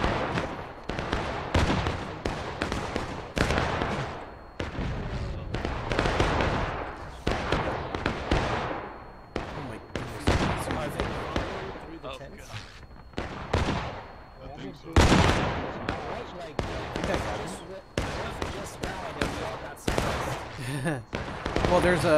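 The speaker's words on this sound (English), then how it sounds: "There's a lot of rebs on the west side firing this way as well." Musket volleys from enemy soldiers crackle across a War of Rights battlefield, with dense, overlapping shots and sharp reports going off near and far throughout, and voices chattering underneath.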